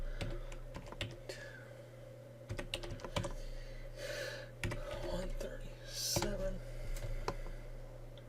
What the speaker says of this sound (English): So we'll go back to DNS and type in those three octets.